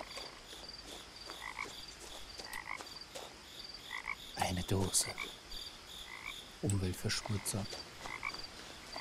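Frogs croak in the game What Remains of Edith Finch, with a few throaty croaks in bursts near the middle over a quiet background of chirping, while a person speaks briefly.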